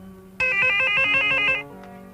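A telephone ringing in a Filipino classic action film, one electronic trill burst of about a second over a low background hum, then stopping abruptly.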